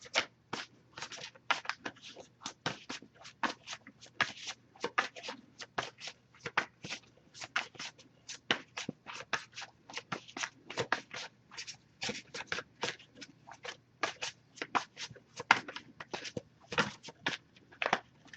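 A tarot deck is shuffled by hand, producing quick, irregular bursts of riffling and card-slapping, close and crisp, continuing steadily with brief pauses and no talk.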